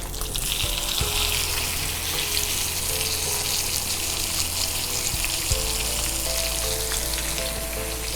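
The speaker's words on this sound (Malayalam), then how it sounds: "ഇനി അടുത്ത മീനിന് ഇതേ എണ്ണയിൽ തന്നെ ഇടാം" A masala-coated pomfret fish fries in hot oil, giving a steady close sizzle with faint crackles. A low hum runs underneath, and no one speaks.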